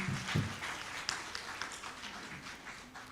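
Applause for Dr. Gladys Kalema-Zikusoka at a public lecture celebrating her memoir: faint, scattered clapping from a seated audience, somewhat distant, following a short spoken phrase at the start.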